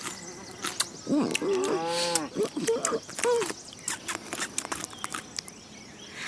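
Cattle lowing on a grazed pasture, several drawn-out moos clustered early and close by, followed by scattered rustles and small ambient noises as the calls fade out.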